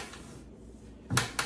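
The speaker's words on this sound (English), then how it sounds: "Open the door, catch the top edge" A door on a painted wooden furniture cabinet is opened, making a soft knock followed by a second quick tap in a quiet room.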